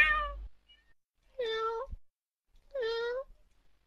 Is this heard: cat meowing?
yes